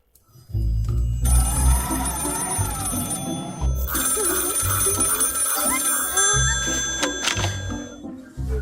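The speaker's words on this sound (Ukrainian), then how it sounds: "Напевно, подзвонимо до вежі управління польотами." A telephone rings as a call goes out to a flight control tower. Its repeated trilling tones carry on steadily and clearly across the whole stretch.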